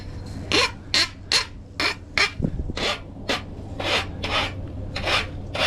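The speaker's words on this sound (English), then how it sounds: "I'm just gonna file off the edges, deburr them a little" A hand file rasps along the cut edges of a shower door piece to deburr them, giving about a dozen short, close strokes in an uneven rhythm with brief pauses between them.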